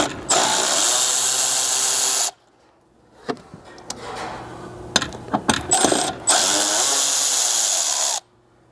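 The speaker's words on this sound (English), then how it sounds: "The easiest seems to be with your T15, just pulling the two fasteners you see right here." A power driver whirs loudly in two long bursts while backing out T15 Torx fasteners on a Chevrolet Colorado ZR2 front bumper, with clicks, ratcheting and handling clatter between the runs.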